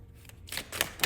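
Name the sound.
shuffling a deck of cards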